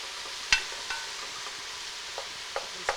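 Portobello mushrooms stirred in a hot pan, giving a steady low sizzle broken by a few sharp scraping clicks from the utensil, close and fairly quiet with no talking.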